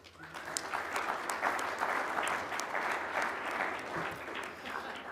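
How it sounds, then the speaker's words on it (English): Audience at a technology best-practices event applauding a presenter, a dense burst of clapping from many people that holds steady for several seconds before easing slightly. "So big hand clap for Kevin."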